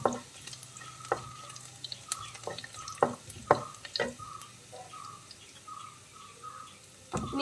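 Ginger and garlic fry quietly in hot oil for a Palakkad-style egg curry, with a faint steady sizzle and scattered scrapes and taps of a spoon stirring the pan.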